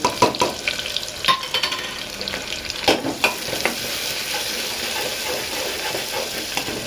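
Onion, garlic and mustard seeds fry in hot oil: a close, steady sizzle with a clatter of stirring and scraping in the first half, then an even hiss.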